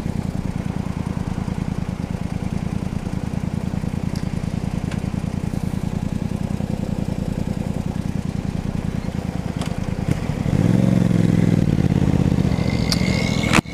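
A motorcycle idles with a steady low chug at a traffic light, then the engine revs up louder near the end as the rider pulls away, all close to the microphone.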